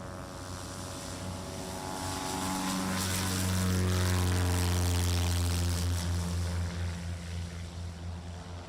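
A 1979 Bellanca Decathlon aerobatic plane runs its engine at an airfield, a steady droning propeller hum that swells louder and closer around the middle, then eases slightly while still running, with no one talking over it.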